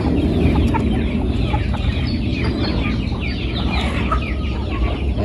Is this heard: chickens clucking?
yes